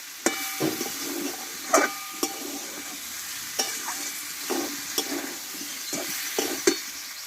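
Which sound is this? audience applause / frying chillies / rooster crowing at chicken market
frying chillies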